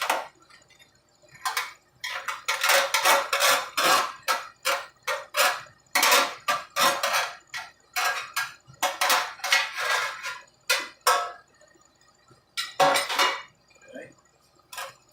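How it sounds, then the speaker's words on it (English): Metal pans are combined in a home kitchen while cooking with herbs and pepper: repeated loud clanks, scrapes and clinks in uneven bursts, close up, with brief pauses between clusters. "I'm going to combine the pans."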